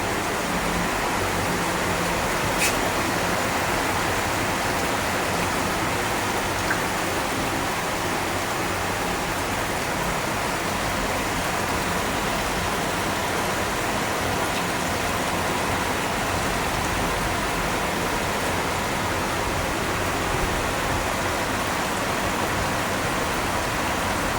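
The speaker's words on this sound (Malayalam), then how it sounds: "നല്ല മഴയെന്ന് വെച്ചാൽ ഗംഭീര മഴയാണ്" Dense, steady downpour hisses without letup, a loud, even wash of heavy rain filling the whole scene.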